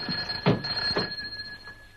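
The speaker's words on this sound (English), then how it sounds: "telephone's ringing. I know it's ringing. Let it ring." An old-fashioned telephone bell rings in a news agency office, two sharp close bursts followed by a fainter trailing ring over a quiet room.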